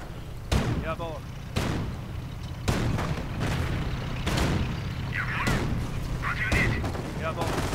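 WWII strategy game battle with Panzer IV tanks, heavy cannon booms and gunfire cracking out at irregular intervals, alongside a continuous stretch of rumbling combat noise and a commentator talking over the action.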